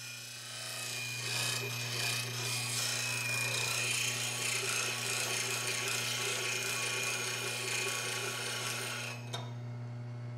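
A woodturning chisel is ground against a steady rotating sharpening wheel, producing a continuous close rasping hiss over a low motor hum that runs throughout before cutting off near the end.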